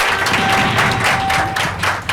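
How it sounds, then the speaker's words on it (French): Studio audience applauding a television show's sponsors, a dense steady wash of clapping held at full volume for the whole stretch, with a faint tone running underneath. "Applaudissez pour les sponsors."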